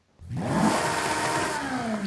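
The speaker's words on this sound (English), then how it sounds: "Yeah, I've got a feeling that's a Ferrari engine." An engine-swapped Toyota GR86 in Forza Horizon 5 revs up with a sustained, loud, rising mechanical roar and no talking over it.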